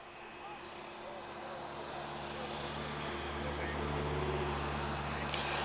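A heavy airliner on approach into Lisbon Airport, a steady rising engine roar that swells as it nears, with a voice talking over it.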